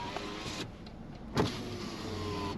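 An electric window motor whirs on a 2014 Subaru Forester with 87,000 miles, whose driver's side window has failed. The steady motor hum runs close and continuous with a brief clunk midway, and no one speaks.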